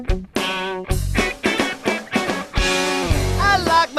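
Finished studio recording of a rock song, with a sung vocal line over a full band. It plays loud and continuous, with choppy phrasing and dense harmonic layers.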